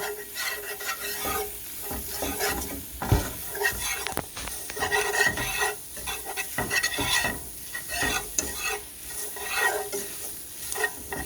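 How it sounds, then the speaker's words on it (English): A whisk works flour into melted butter in a pan over low heat, making close, rapid scraping strokes in an uneven rhythm over a faint sizzle, with a couple of louder knocks against the pan. "I'm just going to whisk until it absorbs all that butter"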